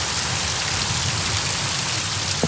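Heavy rain pours steadily on a rural farmyard during a storm, a dense continuous hiss with no voices.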